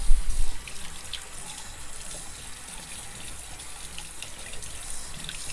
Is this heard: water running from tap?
yes